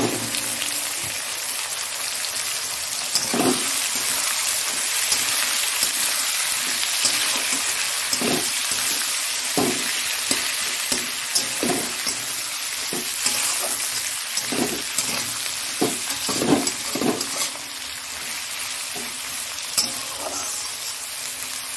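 Onions frying in a pan give a loud, continuous sizzle with frequent crackling pops and bursts spread through the whole stretch, and no one speaks.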